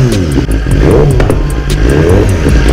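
A BMW S1000RR sport bike revs hard, its loud, continuous engine roar broken by sharp popping and crackling from the exhaust, close and steady throughout.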